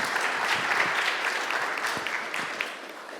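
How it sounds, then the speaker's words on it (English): Seated attendees at a game artist panel at Gnomon give a sustained round of clapping, a bright wash of many hands that gradually thins toward the end. "So let's have another round of applause"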